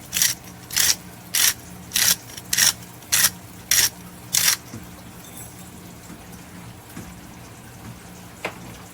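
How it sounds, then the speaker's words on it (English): A hand grinder crushes Mediterranean salt into a bread machine pan with eight evenly spaced, gritty rasping twists up close, followed by several seconds of quiet room tone with a faint hum. "I'm just going to grind Mediterranean salt in here."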